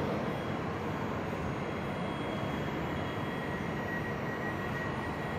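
TLK Jeziorak passenger train from Olsztyn pulling into Wrocław Główny station, a steady broadband rumble and rolling roar with faint high squeal, continuous and fairly close, no voices.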